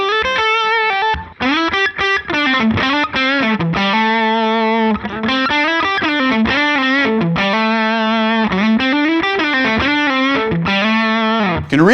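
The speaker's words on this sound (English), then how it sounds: "we get a little bit of that over-compressed sound underneath" A heavily over-compressed, distorted-sounding musical part is blended under the dry signal with parallel compression, and it plays loud and dense throughout with no talking.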